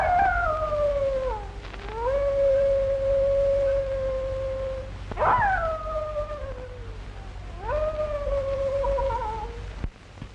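A dog howls mournfully in a 1935 western, three long sliding cries, each swelling then falling away, loud and close over a low steady hum.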